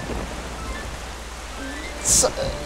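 Steady rain falls in The Legend of Zelda: The Wind Waker as a continuous soft hiss, with a brief brighter splash near the end.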